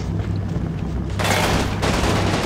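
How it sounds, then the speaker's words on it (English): Infantry open fire in the wargame Combat Mission: Red Thunder, a dense burst of rapid gunshots that erupts abruptly and stays loud to the end over a low rumble. "our infantry is opening fire"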